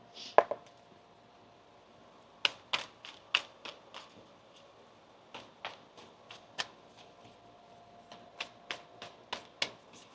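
A deck of tarot cards is shuffled and handled in a quiet room, giving sharp, crisp slaps and riffling snaps in irregular clusters with short pauses between them.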